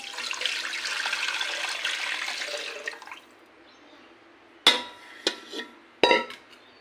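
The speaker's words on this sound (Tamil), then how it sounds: "இந்த மிக்சி கழுவுன தண்ணியை சேர்த்துக்கிறேன்" Rinse water from a mixer jar poured into a cooking pot during lunch preparation, a steady close splashing pour for about three seconds, followed by a few sharp clanks of the jar or utensils against the pot.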